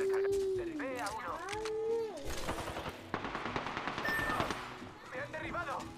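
Bursts of gunfire during an Apex Legends match, a string of sharp rapid shots in the middle stretch, partly buried under voices and game audio.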